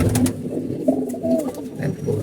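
Pigeons coo softly and repeatedly, low rounded calls overlapping against a steady background hum, with a few faint higher chirps.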